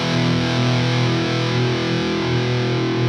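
Distorted electric guitar played through channel 2B of a Hughes & Kettner TriAmp Mark 3 amplifier, a steady, loud, saturated chord sustaining without a break for about three seconds, with no voices.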